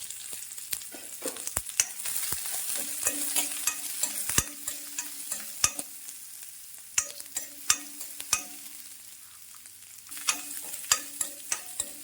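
Small shallots and a sprig of curry leaves sizzle and fry steadily in a pan for a Kerala lentil chutney, with frequent sharp clicks and spoon stirring scrapes over the continuous crackle, no talking.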